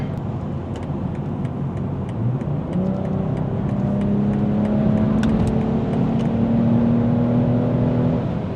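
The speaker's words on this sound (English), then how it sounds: "All right, we're on the highway in the" BMW M240i cruising on a highway, a loud, constant engine drone with rising gear-like tones and steady road roar from inside the car, no voices.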